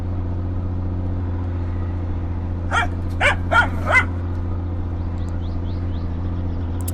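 A dog in the game My Summer Car barks four times in a quick cluster over a steady low engine hum inside a vehicle, followed by faint higher yips.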